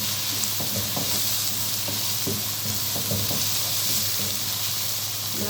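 Chopped onions frying in oil, a dense continuous sizzle close by with irregular stirring knocks, no talking over it.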